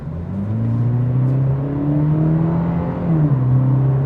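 A 2026 Cadillac CT4's 2-liter turbo four-cylinder revs hard, its droning tone climbing steadily in pitch over several seconds, loud and continuous, then dipping briefly near the end.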